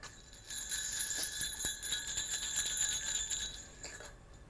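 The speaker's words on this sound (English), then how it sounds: "it kind of sounds like a Christmas bell" Bright, shimmering bell tones like a Christmas bell ring steadily for several seconds, with a few light jingling accents, fairly soft and unaccompanied by voices.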